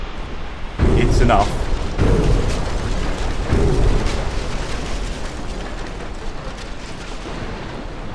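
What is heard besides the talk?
torpedo hits exploding on a ship, from a naval video game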